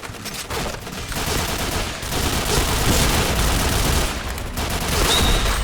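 Sustained close gunfire in a mobile battle royale shooter, rapid overlapping shots forming a loud continuous fusillade throughout.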